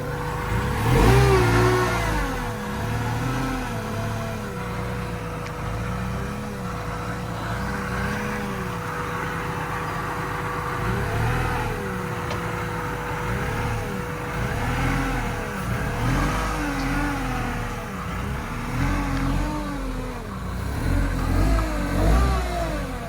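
Supercharged Mazda Miata engine revving with the intercooler not secured, a steady mid-pitched idle and whine rising into repeated throttle blips, close and fairly loud throughout.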